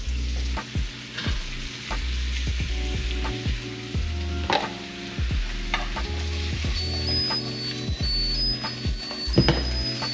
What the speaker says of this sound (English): I'm just gonna add the onions now. Let that toss for a minute